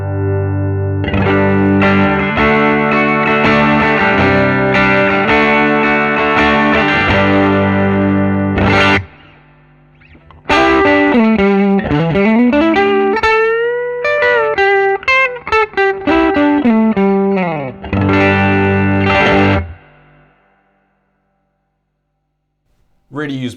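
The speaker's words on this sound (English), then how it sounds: "I'll just bring the volume all the way up now and you can hear how much it breaks up." Fender Custom Shop Stratocaster played through a hand-wired Vyse Renegade tube amp with volume cranked, breaking up into gritty overdriven chords and bending lead lines, loud and close, with a brief pause midway and a ringing tail at the end.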